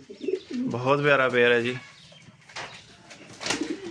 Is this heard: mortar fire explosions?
no